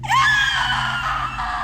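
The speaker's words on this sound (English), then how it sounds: "An unnerving screech rang out." A shrill, piercing screech rises sharply and holds for over a second, loud and close, with a harsh rasping edge.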